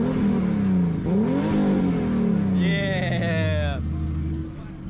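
A BMW engine with its muffler removed revs up and down in loud, rising and falling bursts close by, with a high whine joining midway and a voice talking and exclaiming over it.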